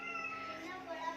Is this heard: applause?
no